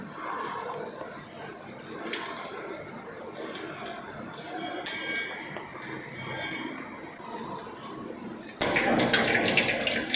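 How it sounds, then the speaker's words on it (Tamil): Water poured steadily over a deity idol during an abhishekam ritual bathing at a home pooja, a continuous splashing trickle that grows louder near the end, with faint voices in the background. "ஃபஸ்ட்டு தண்ணியிலே பூஜை பண்ணிடலாம் அபிஷேகம் பண்ணிடலாம்"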